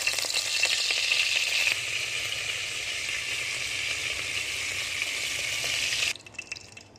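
Steady loud sizzling of butter in hot oil in a pan, continuous crackle for several seconds before it suddenly drops to a fainter hiss with a few pops.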